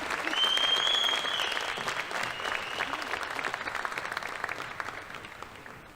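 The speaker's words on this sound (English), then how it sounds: "Can we please have another round of applause for all of our top 25 sophomores?" An awards ceremony audience applauds, clapping building quickly to a loud peak and then continuing steadily before slowly thinning out.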